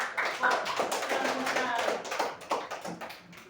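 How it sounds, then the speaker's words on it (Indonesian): Small group of people clapping for a presenter during an academic supervision session, an uneven patter of hands with some voices mixed in. "Tepuk tangan dulu."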